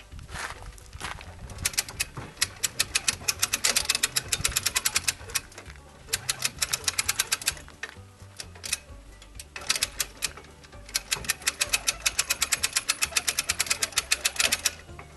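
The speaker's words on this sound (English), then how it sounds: "So when you go to winch this, it's going to pull this up." A winch hauls up an elk and deer hoist gambrel mounted on a hitch, giving rapid, close ratcheting clicks in several bursts separated by brief pauses.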